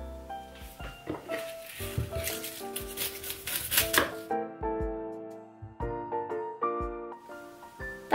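A knife chops onions on a board in a home kitchen. Quiet, quick cuts fall mostly in the first few seconds under steady melodic background music.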